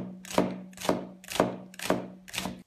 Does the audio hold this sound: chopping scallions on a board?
yes